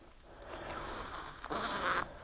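Zipper on a pocket of an Arctic Cat winter jacket being pulled, a quick rasping slide followed by a louder, longer zip close to the microphone, with no talking.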